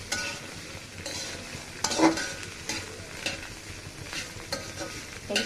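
Long beans, potato and cauliflower stir-fried in a pan with black cumin seeds, a steady close sizzle broken by repeated scraping and clattering stirs, with one louder jostle near the middle.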